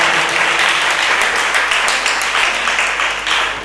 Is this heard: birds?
no